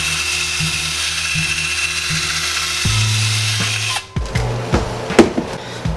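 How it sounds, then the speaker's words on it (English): A power drill bores a hole through a cap: a steady whirring drone with brief stuttering pulses, a louder surge near the middle, then sharp clicks and short bursts as it breaks through. "I'm going to drill a hole in this"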